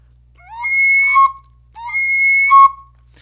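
A wooden inline ocarina blown too softly sounds two airy, thin whistled tones, each a steady wavering pitch that slides up at the start and drops at the end, separated by a short gap, clear and close.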